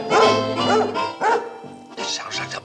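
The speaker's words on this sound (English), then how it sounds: "That sounds like the bark of a happy dog." A happy dog barks in a rapid series of loud, close, bright barks with short gaps, heard from a vintage sitcom scene.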